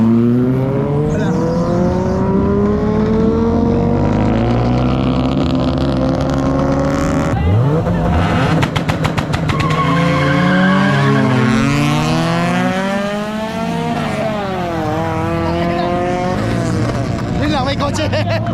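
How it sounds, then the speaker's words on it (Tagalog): Honda Civic EF sedan launching at a night car meet, engine revving loudly with rising pitch sweeps and a sharp tire squeal, crowd voices and cheering mixed in near the end. "Ayan, meron na mag-launch. That's a Honda Civic EF sedan."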